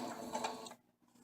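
A sewing machine stitches slowly through several layers of fabric with the needle down, giving a soft, quiet mechanical whir that fades out after a moment.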